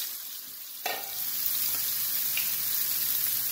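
Onion hits a hot pan of lean venison stir fry with a sudden burst of sizzling, then a steady, close frying hiss that carries on alone to the end.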